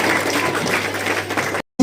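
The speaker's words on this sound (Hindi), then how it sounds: "अरे ताली तो बजा लो" A children's audience at a church holiday Bible school program claps together in a dense, steady burst of applause that cuts off abruptly near the end.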